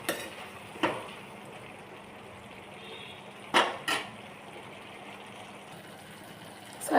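Mushroom curry with fresh coriander stirred in a pot: a few sharp spoon-on-metal clanks stand out, two close together, over a quiet, steady kitchen background with no talk.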